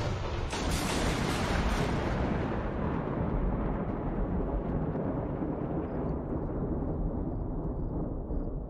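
Bombs exploding in the city-building game The Universim, a heavy booming blast that rolls out into a long, dense rumbling decay lasting several seconds.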